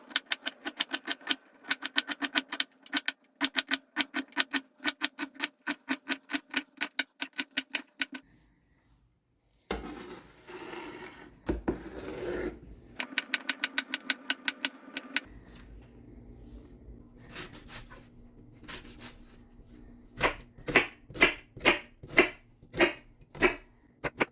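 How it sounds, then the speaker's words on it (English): Vegetables chopped for soup on a cutting board, sharp knife strikes in fast regular runs separated by short pauses and some handling noise, with no talking. "The first thing you want to do is chop up your vegetables."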